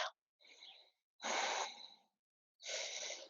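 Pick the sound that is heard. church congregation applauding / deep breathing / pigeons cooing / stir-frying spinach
deep breathing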